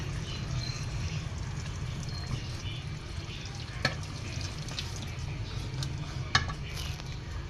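Chicken and masala with yogurt stir-fried in a pot for tinda chicken, with a low steady hiss of frying under scattered metal spoon clinks and scrapes against the pot.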